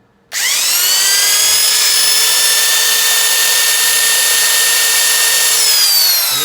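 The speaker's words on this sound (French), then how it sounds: "on va prendre la perceuse." Electric drill running steadily while boring a small hole in a Brembo brake caliper part for an Audi, loud and close, starting suddenly and holding a constant high whine for several seconds before easing off.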